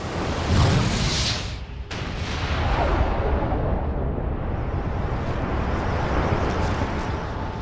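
A Big Bang explosion sound effect: a huge, deep roaring rush with a broad rumble, briefly cut off and then surging on as a sustained, loud, wind-like blast, with no voices.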